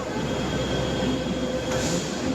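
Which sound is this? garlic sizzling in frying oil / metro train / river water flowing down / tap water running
metro train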